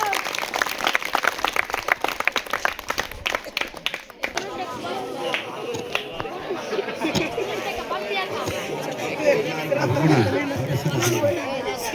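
Schoolchildren in a classroom or hall clap loudly for the headmaster and teachers, a fast burst of many hands for about four seconds that gives way to crowd chatter and murmuring.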